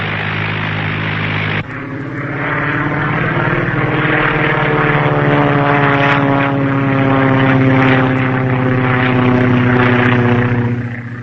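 Propeller-driven airplane in a 1941 serial, flying in on a bombing run; a loud, steady droning engine with rising and falling pitch that fills the whole stretch alone, swelling slightly toward the middle and easing off at the end.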